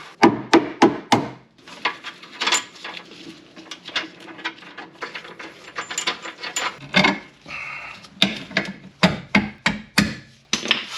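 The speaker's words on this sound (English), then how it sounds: "I might as well bang out the rest of them" Sharp metallic hammer blows ring out in quick bursts and clusters, close and loud, with brief pauses between runs of strikes, as ARP extended rear wheel studs are hammered into a 2004 Subaru WRX.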